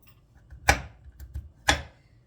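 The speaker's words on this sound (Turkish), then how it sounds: "İlk olarak cevizlerimi şöyle bir bıçak yardımıyla iri iri doğruyorum." Walnuts are coarsely chopped with a kitchen knife. Two sharp, crisp knocks land about a second apart, with faint smaller taps between them. The sound is quiet and close, with no talking.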